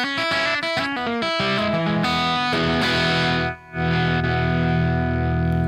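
Electric guitar, a Gretsch Duojet-style rig, played with a short slapback tape echo doubling each note, bright and distorted, with strummed chords and single notes up close and a brief gap near the end.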